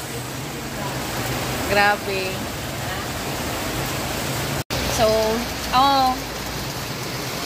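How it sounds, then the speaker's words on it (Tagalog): Heavy rain falls in a constant loud hiss around a home where a plywood sink cabinet is being built, while someone speaks briefly over it a couple of times. "Lumakas na yung ulan, guys."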